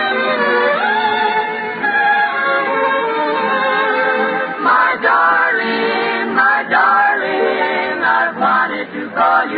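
An orchestra backs five sisters singing a song, a full, steady band-limited performance with layered harmonized voices over continuous orchestral accompaniment.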